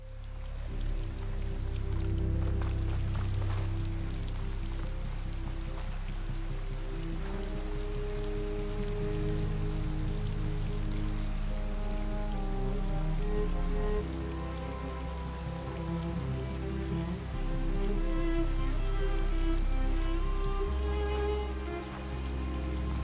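A waterfall in the Horizon Forbidden West video game pours as a dense, steady roar of falling water. It runs unbroken for the whole stretch beneath layered game music.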